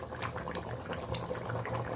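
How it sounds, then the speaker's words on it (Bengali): Potato curry simmers in a pot with a steady, soft bubbling and gentle liquid churn, faint and continuous with no voices. "এখন ফুটুক"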